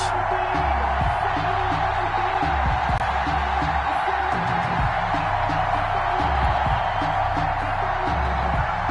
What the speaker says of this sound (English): This crowd is ready as their guys get set to match up between the Arizona Cardinals and the Philadelphia Eagles.